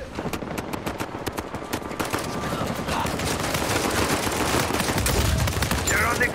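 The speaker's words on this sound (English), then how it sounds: "Sound of gunfire." Rapid gunfire in Uncharted 4 multiplayer, bursts of sharp automatic shots in quick succession building into a continuous volley, with players talking over it.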